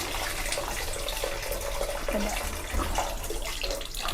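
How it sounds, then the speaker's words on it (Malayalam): Water running steadily outside by a bathroom as someone washes, a constant faucet-like rush heard from a little distance, with faint household sounds behind it. "അമ്മതാ പുറത്ത് ബാത്റൂമിൻ്റെ അവിടെ കഴുകുകയാണ്"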